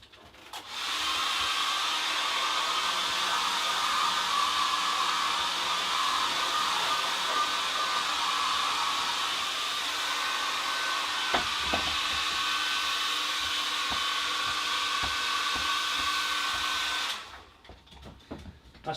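A hair dryer blows steadily at close range onto a watercolour painting, a continuous loud whooshing drone lasting most of the stretch before switching off near the end, with a few faint taps midway.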